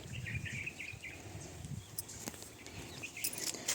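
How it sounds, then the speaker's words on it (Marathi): Birds living in a large pipal tree beside an old farm well chirp in faint, scattered calls through a hushed outdoor background, with a few sharper high notes later on and no one speaking. "पक्ष्यांचा आवाज येतो"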